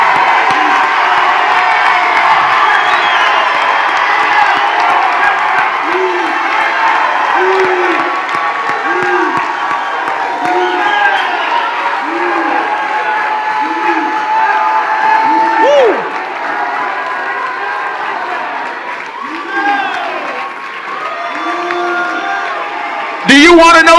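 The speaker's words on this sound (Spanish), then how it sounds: "Tenemos tiempo para gritar." A church congregation at a special service shouts and cheers loudly and continuously, with whoops and rhythmic voiced cries over a dense crowd roar, and a sharp burst of noise near the end.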